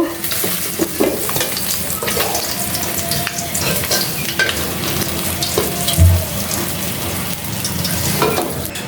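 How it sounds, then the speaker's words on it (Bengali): Steady, loud frying sizzle of fish in hot oil, a continuous crackling hiss close by with occasional stirring clatter, no voices. "বাকি মাছগুলো ভাজা হয়ে গেছে এগুলো এখন তুলে নিব"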